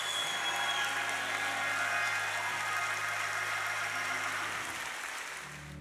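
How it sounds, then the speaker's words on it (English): A congregation claps steadily and loudly, a dense sustained wash of hand clapping that holds for several seconds before easing slightly at the end. "Give the Lord a hand clap of praise."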